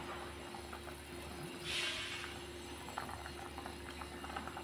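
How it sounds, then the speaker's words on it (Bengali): A thin Bengali fish curry broth boils in a pot as fish is added. A low, steady bubbling runs throughout at a faint level, with a short hissing swell near the two-second mark. "ঝোলটা মোটামুটি হয়ে গেছে, এখন দিয়ে দিচ্ছি মাছ।"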